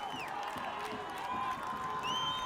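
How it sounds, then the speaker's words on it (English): Parents in the stands cheer at a high school football game, a distant crowd roar with scattered shouts, whoops and whistles holding steady. "Now the parents are cheering."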